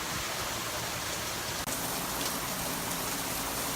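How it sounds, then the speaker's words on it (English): Heavy rain pours down steadily during a Florida downpour, a dense, even hiss of drops striking surfaces all around, with no one talking. "This is what it's like when it rains in Florida."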